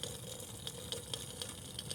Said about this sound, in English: we've got a raging boil